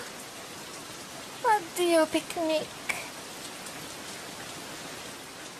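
Rain falls steadily in an Italian children's cartoon, a soft continuous hiss throughout, briefly overlaid by voices speaking in the middle.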